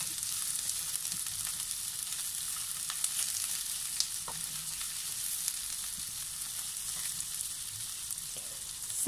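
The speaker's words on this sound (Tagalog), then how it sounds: "isunod po natin, isote ang ating sibuyas" Onions sauté in hot oil in a pan while chicken soup with bitter gourd is being cooked, a steady close bright sizzle and crackle that runs throughout with small pops and no talking.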